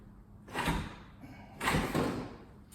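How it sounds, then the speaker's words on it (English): A French door is shifted in its frame during a sliding-to-French door conversion, giving two separate knocking, scraping thumps of wood against the frame, fairly close and moderately loud, with no talk. "I gotta move this door back out"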